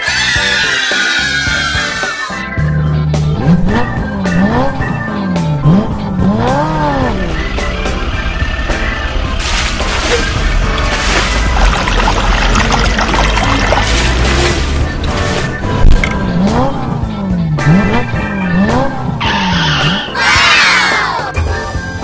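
Toy dump trucks rolling and clattering down a wooden slider, with repeated wooden rattles and rumbles over a bouncy children's tune with wobbly siren-like tones playing throughout.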